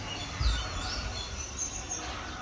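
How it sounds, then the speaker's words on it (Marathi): Birds chirp outside a home in short, high, thin calls scattered over a soft background hiss, fairly faint and distant. "पक्ष्यांचा आवाज येतोय"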